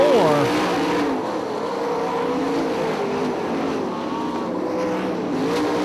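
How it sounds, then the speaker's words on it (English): Sprint cars racing on a dirt oval track, a roaring engine drone rising and falling through the turns under a race announcer's commentary. "Now Lowe moves up the racetrack, turns 3 and"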